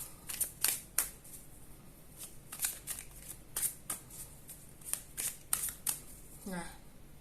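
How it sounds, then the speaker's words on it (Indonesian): Tarot cards shuffled by hand during a reading, crisp riffling flicks and snaps coming in quick irregular bursts up close, with quiet speech underneath. "saya kocok kartunya"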